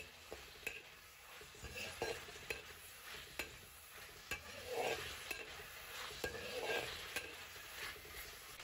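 Sliced ginger and garlic stir-fried with oyster sauce and soy sauce in a wok, a soft continuous sizzle with frequent crisp taps and scrapes of a spatula, rising and falling as the food is tossed, with no speech.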